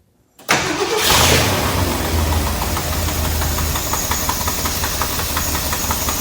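A Ford F100 truck engine with a plug pulled off cranks and catches, then settles into a loud, rough, knocking idle that continues steadily up close.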